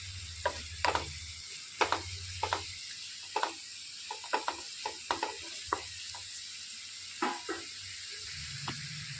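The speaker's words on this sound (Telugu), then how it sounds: "దాని మూలన ఉల్లిపాయలు అనేవి తొందరగా ఫ్రై అయిపోతాయి." Salted onions frying in a pan for dhaba-style capsicum egg fry, a soft steady sizzle broken by frequent short scraping taps of a spatula stirring, close and fairly quiet, no voices.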